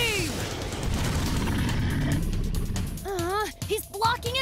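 Cartoon dinosaur robot Tyranno fires a blast beam attack in a dense, roaring energy burst with rapid crackling like machine-gun fire, loud and sustained, then fading into tonal whooshing beeps and a shout.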